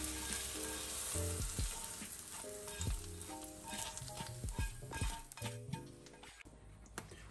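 Chopped onion sizzles steadily in hot oil in a pan as it fries to a golden crust, with a dense crackle that rises in brief louder bursts as the pieces are stirred; no voices.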